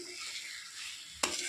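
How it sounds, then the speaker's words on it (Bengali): Fried cauliflower and potato being sautéed in a yogurt spice mix, a soft sizzling hiss in the pan ending with a sharp scrape of the spoon, close up and brief. "ফুলকপি আলুটা একটু ভালো করে কষিয়ে নেব"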